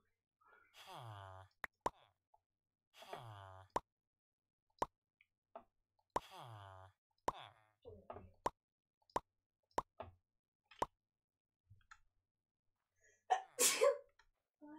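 Three sneezes burst out one after another, each with a sharp intake and explosive release, followed by scattered sharp clicks and a brief louder rustling noise near the end.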